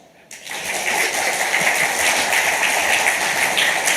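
Audience applause breaks out at a financial announcement event, starting abruptly and settling into a full, even wash of many hands clapping that holds steady to the end.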